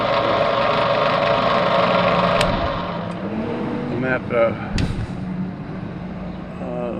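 A Yardbird chicken plucker motor running with a steady hum and slight shaking rattle, while someone talks over it and a few clanks and bumps sound near the end.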